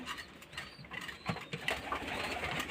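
Pigeons cooing softly alongside their young chicks in a loft, low murmuring calls over scattered rustling and faint background noise, with no talking.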